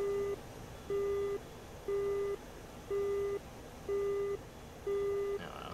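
Radar warning receiver in an SU-25T cockpit in the DCS World flight simulator, giving six evenly spaced steady electronic beeps about once per second, clear and prominent over a low engine hum.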